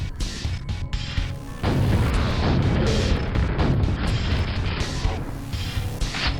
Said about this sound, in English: While they're unaware, let's rocket these enemies.